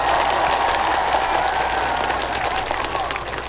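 Sustained applause from a concert crowd, a steady wash of clapping that holds at an even level throughout before easing slightly toward the end.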